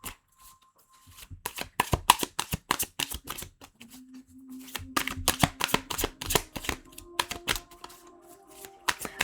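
Tarot cards are shuffled by hand in quick, crisp bursts of riffling and slapping, close and fairly quiet, with a rhythmic patter that speeds up toward the end and no talk.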